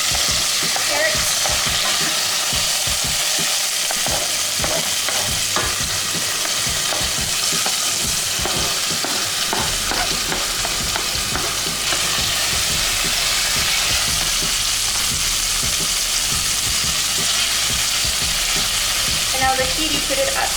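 Carrots fry in a hot pan for veggie porridge, a continuous close sizzle with frequent scraping stirs clattering through the first half, then a steadier hiss; no talking.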